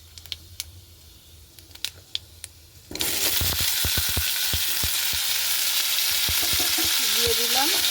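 Pieces of ripe hog plum drop into hot oil with frying panch phoron, and a loud, steady sizzle erupts suddenly after a few quiet seconds of faint clicks, then continues close up.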